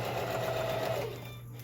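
A sewing machine stitching face mask pieces together, a steady whirring hum from close by that slows and fades near the end, with no talking.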